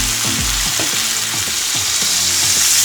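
Lamb chops with rosemary sear hard in a hot pan, giving a loud, steady sizzle that runs throughout, with a few low knocks and scrapes as the meat is pressed down.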